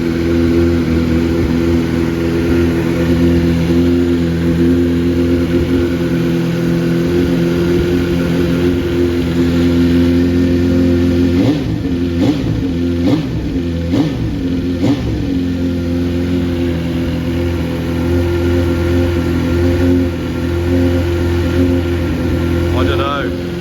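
A motorcycle fitted with a Yoshimura slip-on exhaust idles with a deep steady rumble, then gets a few quick sharp revs in the middle before settling back, close and loud, with people talking over it.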